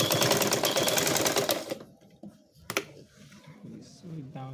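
A sewing machine stitches down an overlap waistband in a fast, loud, steady whir for under two seconds, then stops; quieter handling noises and a voice follow.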